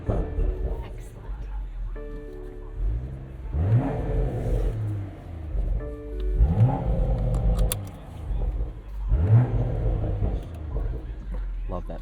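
A 2025 BMW Z4 six-speed manual roadster at a gas station revs its engine three times in rising, swelling bursts, each climbing and falling back to idle, with a voice speaking between them.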